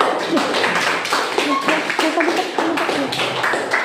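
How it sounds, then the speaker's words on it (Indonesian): Schoolchildren in a classroom clap together after a group presentation, a ragged burst of hand claps over chatter and a talking voice. "Beri tepuk tangan untuk"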